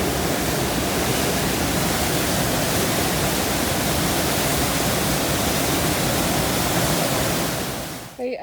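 Skelwith Force waterfall on the River Brathay in the Lake District roars in a steady, dense wash of rushing water, loud and close, continuing unbroken until it cuts off at the end.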